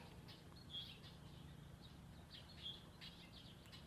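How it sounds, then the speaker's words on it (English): Birds chirp faintly in a garden beside a feeder, a couple of brief high tweets standing out over a steady quiet outdoor hum with no talking. "So many birds."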